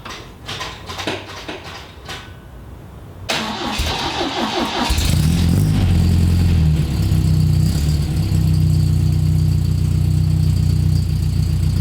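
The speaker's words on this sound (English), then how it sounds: "This car fires up extremely fast" Several seconds of clicks and rustling, then an MGB classic car engine cranks and fires up quickly, settling into a loud, steady, rumbling idle up close.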